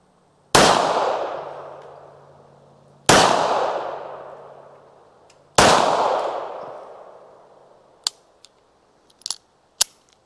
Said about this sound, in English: we're just gonna keep shooting